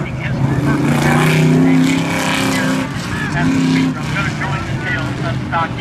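Stock cars in a figure-8 heat race at the Speedrome, with several engines revving and droning together, pitch rising and falling as cars pass; a commentator talks over the steady racing noise.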